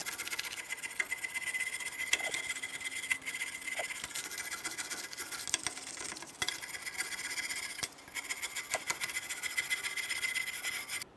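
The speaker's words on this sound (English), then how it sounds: "I'm just going to use a nice brush, and I'm going to try to get off any of the rust or debris that I can find inside this area" A stiff brush scrubs rust and debris off the rear brake backing plate of a 2004-2010 Chevrolet Cobalt, giving a steady, close scratchy rubbing with a few brief pauses and no talking.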